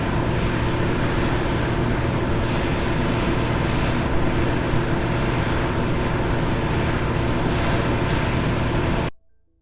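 A competitor's standby generator running at full load produces a loud, broadband, steady roar with a rushing, wind-like texture throughout, then stops suddenly near the end.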